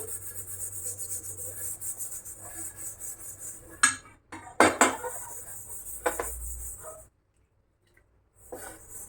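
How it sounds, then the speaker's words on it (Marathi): Scrubbing the back of a new iron wok by hand, a close rough rubbing and scraping with a few sharp knocks midway, then a short silence before the scrubbing resumes faintly. "मागची बाजू ही व्यवस्थित घासून घेते सर्व क्लीन करून घेऊत"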